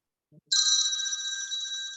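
A phone rings with a sustained electronic trill, clear and fairly loud, starting half a second in after a brief soft voice fragment.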